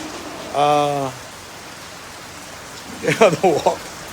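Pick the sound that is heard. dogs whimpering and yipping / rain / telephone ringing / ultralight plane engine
rain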